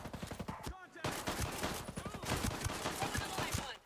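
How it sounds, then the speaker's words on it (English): Rapid bursts of automatic gunfire crack out at enemies in Ghost Recon Breakpoint, a dense fusillade of close, sharp shots with brief pauses and overlapping echoes. "Firing at the enemy. We are getting attacked, apparently."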